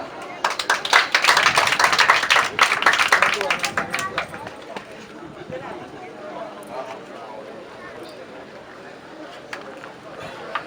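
A crowd claps loudly and densely for the chief of a large family at a ceremony presenting a new family head. The applause is strongest early, then thins and fades under ongoing talk.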